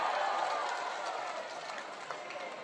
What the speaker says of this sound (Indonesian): Boleh tepuk tangan untuk Bung Ismail Bahtiar.